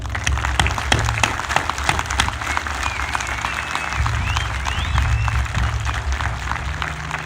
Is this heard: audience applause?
yes